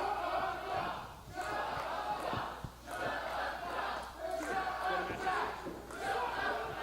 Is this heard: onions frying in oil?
no